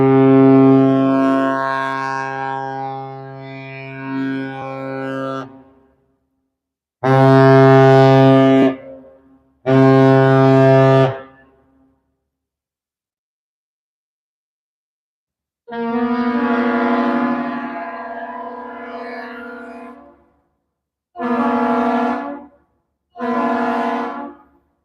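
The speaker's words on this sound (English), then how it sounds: "Awesome salute between the ship and the bridge." In snowy, cold weather at Duluth, the ship Lee's deep horn trades a salute with the bridge's horn: long, loud blasts followed by shorter bursts, separated by silent gaps, heard from fairly close outdoors.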